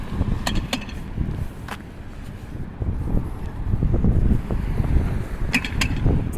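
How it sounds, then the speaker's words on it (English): Wind buffets the microphone outdoors in a low, gusty rumble that rises and falls throughout, with a few sharp clicks and knocks on top. "Videos can't stop just because the wind's blowing."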